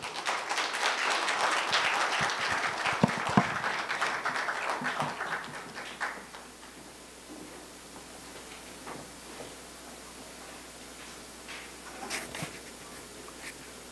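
Audience at a convergence symposium applauding to welcome a speaker, the clapping strong for about five seconds before fading into a quiet room with scattered faint noises.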